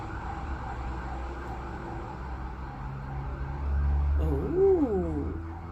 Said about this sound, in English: That's another fire engine.